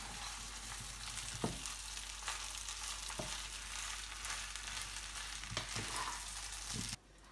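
Rice and lentil pongal sizzles steadily in a pan while being stirred, with a few soft scraping knocks of the spoon against the pan over the low, continuous frying hiss.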